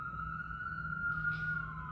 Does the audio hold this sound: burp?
no